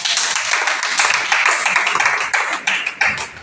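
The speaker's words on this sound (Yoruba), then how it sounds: "Ẹ pàtẹ́wọ́ ńlá fún Jésù." A church congregation at a Sunday school gathering applauds, steady dense clapping that holds loud and close throughout with no talk over it.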